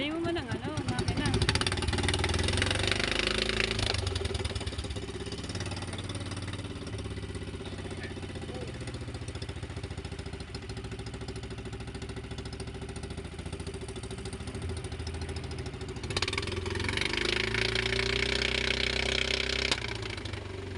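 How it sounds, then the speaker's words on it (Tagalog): A boat engine idles on a fishing boat with a steady, rough mechanical drone that runs the whole time and swells louder near the end, with people talking over it. "bukas ang makina"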